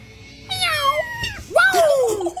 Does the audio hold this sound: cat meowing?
yes